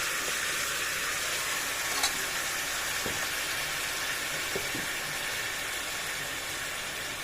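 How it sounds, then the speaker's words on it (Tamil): Finely ground masala paste hits a pan of chana and sizzles in a steady, even hiss with a few soft pops, close and constant throughout with no talking. "ஃபைனாக அரைச்சி வச்ச பேஸ்ட்டு நான் உள்ளே ஊற்றிடுறேன்"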